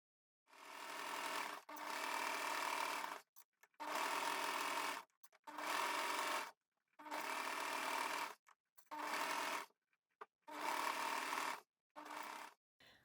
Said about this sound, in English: I'm going to go to the Mariflex thread on a straight stitch on my machine